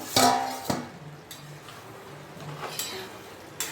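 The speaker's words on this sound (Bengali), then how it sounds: "এবার ঢাকনাটা উঠিয়ে দেখি কি হলো" A metal lid is lifted off a cooking pot of hing potol (pointed gourd with asafoetida). It gives two close, ringing metallic clanks, followed by softer scattered knocks and light kitchen clatter.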